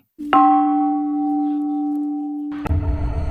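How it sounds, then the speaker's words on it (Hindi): A single temple bell strike rings out clearly with a long, sustained metallic hum that slowly fades, then a burst of noisy rustling cuts in near the end. "तभी उनको मंदिर की घंटी की आवाज सुनाई दी।"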